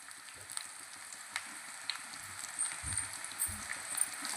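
Tempering frying in a pan for a Rayalaseema ridge gourd curry gives a faint, quiet sizzle with scattered small crackles and a few soft low knocks, with no talk.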